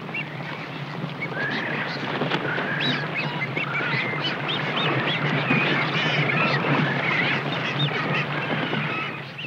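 A dense flock of brown boobies, pelicans, frigatebirds and gulls feeding together at sea, giving a steady, loud chorus of overlapping squawks, honks and calls throughout, with no voices.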